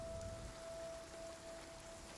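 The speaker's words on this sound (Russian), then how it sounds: "Дождик, правда." Rain falls in the video game Genshin Impact as a soft, steady, faint hiss of drops, with a thin constant tone running beneath it.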